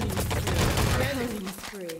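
Gunfire in the video game Wolfenstein: Enemy Territory comes as rapid bursts of shots, loud and close, mixed with other game sounds and some tonal effects that fade toward the end.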